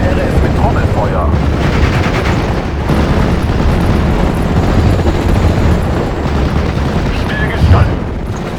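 Gunfire and an artillery barrage in the WWII strategy video game Steel Division: a dense, continuous roar of rapid shots and booming explosions, loud and unbroken, with a heavier impact near the end.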